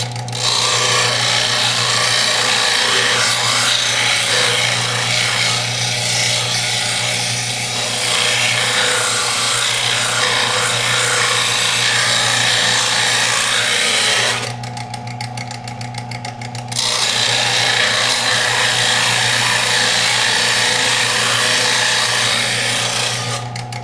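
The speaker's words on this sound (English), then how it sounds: "just running it along there until it meets that point" A hunting knife is sharpened on a power sander, giving a continuous close, loud grinding rasp over a steady motor hum, with a brief shift in tone midway and no talking.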